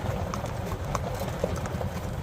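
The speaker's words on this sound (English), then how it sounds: "There's our Percheron Zeus" Percheron draft horse walking, its hooves clip-clopping in a steady uneven rhythm close by over a low constant background rumble.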